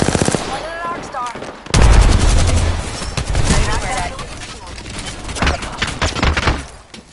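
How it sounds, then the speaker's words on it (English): Video game gunfire, rapid automatic bursts and shots rattling close and loud over several seconds, with someone talking over the shooting. "They're shooting at me."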